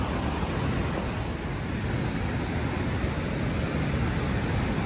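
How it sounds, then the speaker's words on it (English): Niagara Falls roars from close range at Niagara Falls State Park, a loud, constant broadband rush of falling water that holds steady, with no voices over it. "It's amazing how the water comes and falls that way."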